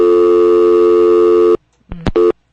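After a caller hangs up, a loud steady telephone line tone fills the line, then cuts off and gives way to a short burst of higher tones and another brief tone.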